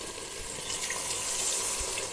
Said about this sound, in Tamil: இப்போ நம்ம தண்ணி ஊற்ற போகிறோம் பாஸ்மதி ரைஸுக்கு